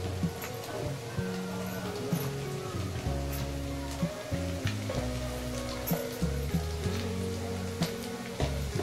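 Onions frying in a pan for dal vangi (Marathi dal-and-brinjal dish) give a steady, fairly faint sizzle and crackle throughout, with a low background hum and scattered small pops.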